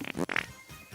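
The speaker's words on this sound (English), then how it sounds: "here's another fart noise." A short, loud fart noise sound effect plays during a live stream: a brief buzzy, sputtering burst followed by a quieter tail.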